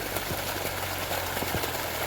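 A river water pump motor runs steadily, feeding water through pipelines into a farm plot: a continuous mid-pitched mechanical hum with faint rhythmic knocking, close and unbroken.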